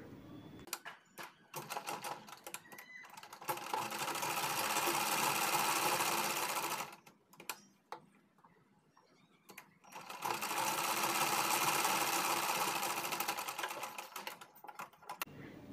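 Domestic sewing machine joining the shoulder seams of a designer suit, running in two long steady bursts of rapid stitching separated by short pauses and quiet handling clicks.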